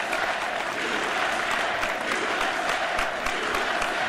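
A crowd applause sound effect plays as dense, steady clapping throughout, loud and continuous with no pauses and no voices over it.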